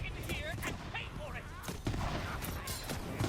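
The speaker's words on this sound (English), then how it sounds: "Shooting cannons." Cannons fire in Tiny Tina's Wonderlands, a rapid fusillade of sharp blasts spread across a few seconds amid dense game noise, with no one speaking.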